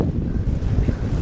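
Strong wind on a beach buffeting the microphone, a loud, close, low rumbling roar with gusty fluctuations over a brief stretch, no talk.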